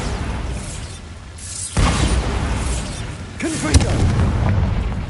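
Bombarda explosion spell in Hogwarts Legacy: a sharp booming blast, then a second hit with rumbling debris, loud and close over a low ambient bed.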